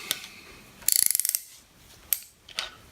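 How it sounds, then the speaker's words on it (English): A ratchet wrench clicks in a rapid run of about a dozen ticks as it loosens a 12mm bolt on a Suzuki GSX-R SRAD motorcycle engine during teardown, followed by a few isolated metallic clicks, close and clear with no talking. "Make sure our ratchet is in the right direction."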